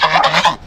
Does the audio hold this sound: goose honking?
yes